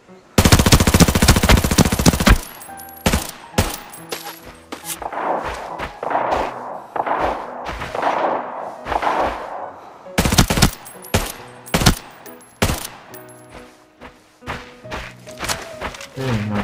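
Enemy gunfire in the shooter game Arena Breakout: a long loud automatic burst opens, followed by scattered single shots and short volleys that crack sharply against quieter stretches of ambient rumble.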